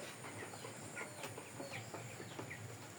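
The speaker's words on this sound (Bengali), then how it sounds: "এখানে মুরগি আছে 1000 পিস। এই হলো একটা শেড" Seventeen-day-old chickens, about a thousand birds, chirp and cluck throughout a poultry shed, a steady dense flock chatter over a low constant hum, with no talk.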